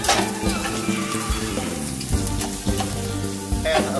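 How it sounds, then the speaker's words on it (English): Zucchini and chopped garlic sautéing in a pan, a close, continuous crackling sizzle with bursts of stirring and scraping. "And allow that to saute for another 5 to 10 minutes."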